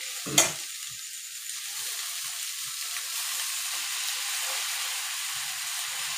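Potatoes frying in a pan for chowmein give a steady, soft sizzle after one sharp clink near the start, with faint light stirring sounds throughout.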